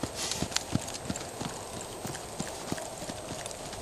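A ridden mustang gelding at a 2012 Extreme Mustang Makeover event: soft, rhythmic hoof clip-clops in a steady gait, fairly faint against a constant background hiss.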